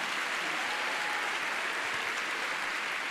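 Church congregation applauding during a sermon, a dense, even roar of many hands clapping that holds steady throughout, with no talk over it.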